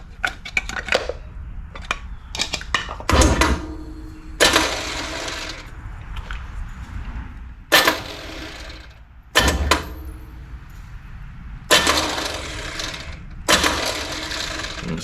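A Chevrolet 396 big block engine in a '72 Chevelle undergoes repeated starter cranking attempts, with several loud short bursts and pauses between clanks before it catches.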